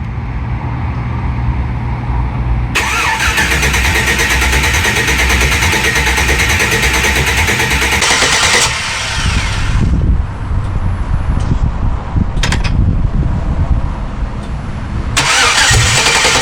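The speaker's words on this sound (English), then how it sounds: "And this would be like hitting the starter." A 1994 Ford OBS truck with an LS engine swap and a new wiring harness cranks and fires up. After a short quiet stretch comes a loud, sustained burst of starter and engine noise, then rough running with further bursts, close to the microphone.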